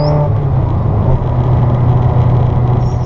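Grey Ferrari F355 Spider under way: a loud, steady engine rumble with road noise, continuous and close throughout.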